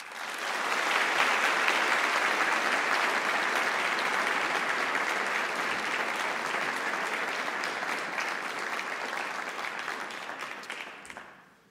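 Audience applause welcoming Ambassador Paul Wolfowitz back to Cornell for a foreign policy lecture, a full hall clapping steadily and densely for about eleven seconds before tapering off at the end.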